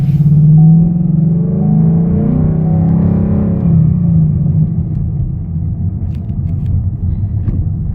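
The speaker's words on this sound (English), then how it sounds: "This is a stick shift, and I'm driving one-handed." A manual stick-shift car being driven, giving a steady low engine rumble and road drone throughout, loud and continuous with slight shifts in pitch as it runs.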